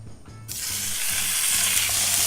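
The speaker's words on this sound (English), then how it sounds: "You want to hear that sizzle, and you want to cook your steak on a medium heat." Steak hits a hot pan over medium heat and bursts into a loud, steady hiss of sizzling that continues evenly, with a low hum running beneath.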